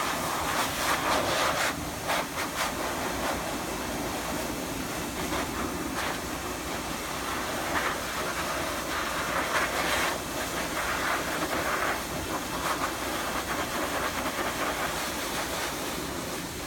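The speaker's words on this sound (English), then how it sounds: "the nozzle making the air come to a point, so every point on the cat is dry" Steady, loud broadband hiss of a pet dryer forcing air through a nozzle onto a wet American Bobtail cat, continuous and close, with slight fluctuations in intensity throughout.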